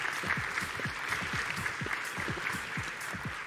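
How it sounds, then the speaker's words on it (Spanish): Applause at the Congreso Futuro 2023 conference welcomes speaker Edwin Eichler, steady crowd clapping with a few voices and brief calls mixed in underneath. "Damos la bienvenida con un fuerte aplauso a Edwin Eichler"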